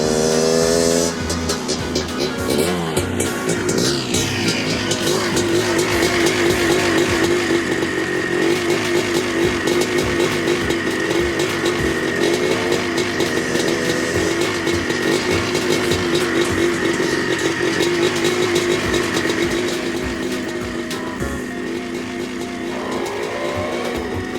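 A green toy monster truck gives off a continuous, loud, revving engine roar with shifting pitch and racing-style whine, sustained close by for over twenty seconds with no talking.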